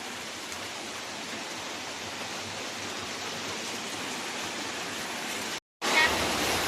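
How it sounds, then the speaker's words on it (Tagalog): Rushing floodwater after rain roars in a steady, dense wash, loud and continuous, briefly cutting out near the end before resuming. "Kunting ulan, lakas na ng baha."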